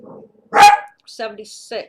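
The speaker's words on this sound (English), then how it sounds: "So my dog wants to get in here with us." A pet dog barks once, loud and close, indoors at a house on Stewart Road in Monroe, Michigan, with someone talking before and after the bark.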